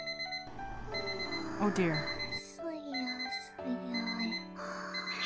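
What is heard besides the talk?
alarm clock ringing in a video game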